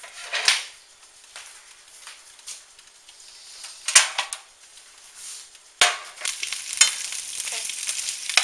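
Vegetables fry in olive oil for Philly cheese steak sandwiches, with intermittent sizzling bursts and sharp clacks of stirring against the pan, close and irregular, no talk.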